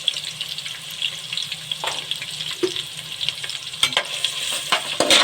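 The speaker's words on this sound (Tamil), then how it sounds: "இப்போ வந்து வெங்காயம் நல்லா பொன்னிறமாக வர வரைக்கும் நம்ம வதக்கிட்டே இருக்கலாம்." Onions sauté until golden in a pan for chicken dum biryani, giving a loud continuous sizzle with occasional stirring knocks and scrapes.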